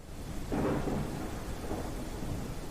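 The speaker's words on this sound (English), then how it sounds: "It started to rain and there was a heavy thunderstorm with lightning cracking off in the distance" Thunderstorm in a video game: a low thunder rumble swells early and slowly fades over a continuous hiss of rain, with no voices.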